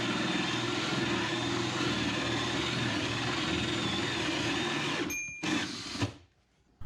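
A 1.5 inch hole saw cuts a hole in a kitchen cabinet, a steady whining drone of the drill that runs continuously for about five seconds, then cuts off abruptly with a brief clatter before silence.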